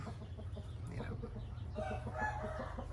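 Chickens cluck steadily while a rooster crows nearby, a busy farmyard chorus with no talking.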